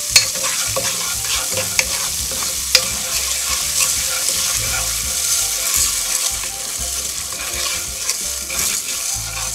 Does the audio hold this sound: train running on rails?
no